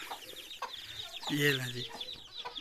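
Chickens and chicks cluck in a rural village yard: soft, irregular clucks and chirps mixed with a louder cackling call, heard under a woman's speech.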